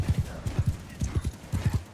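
Hooves clatter in a quick galloping rhythm, several sets of hoofbeats pounding close by with a hollow thud, from horses in the video game Realm of Thrones.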